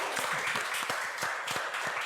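A podcast audience claps steadily for two seconds, a dense wash of applause with a few sharper nearby claps.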